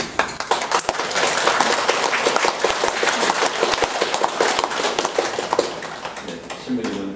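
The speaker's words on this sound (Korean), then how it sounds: "그래도 환영의 박수를." Welcoming applause for a priest at a monthly Catholic Mass held by a disabled people's association in Incheon, a congregation clapping steadily for about seven seconds, fairly near, with a voice speaking briefly at the end.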